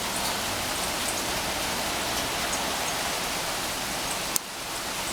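Hailstorm pounding down outdoors, a dense, steady hiss of hailstones hitting surfaces for several seconds with a brief click near the end.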